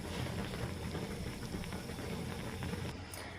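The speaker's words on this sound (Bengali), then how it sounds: "বেগুনগুলোকে ভালো করে সিদ্ধ করে নিয়েছি" Eggplants boiling in a pot on the stove, a steady close bubbling and sputtering that runs unbroken for a few seconds, with no voices over it.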